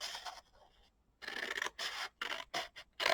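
Scissors cutting through cardboard to make gift box shapes, several close, scratchy snips in bursts after a short quiet gap, with no voices.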